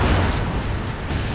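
Cannon blasts from Command & Conquer Generals Zero Hour, a dense, loud rumbling boom with heavy low end that fills the whole moment without letup, no voices over it.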